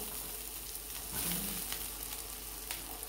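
Onion fries in a pan with a soft, continuous sizzle, and a brief thicker burst partway through as tomatoes go in and are stirred.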